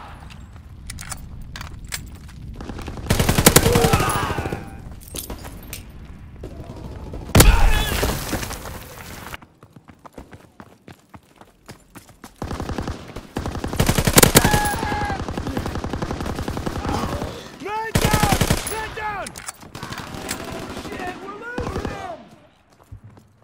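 Covering fire in Call of Duty: WWII rattles out in several loud machine-gun bursts separated by quieter gaps, with shouted battlefield voices and clattering debris between volleys.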